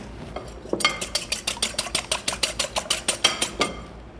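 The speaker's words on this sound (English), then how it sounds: "We're gonna whisk that together." Two eggs being whisked in a bowl for cinnamon flapjack batter: a steady, even rhythm of about fifteen crisp metallic taps from the whisk against the bowl, close and clear, with no talking.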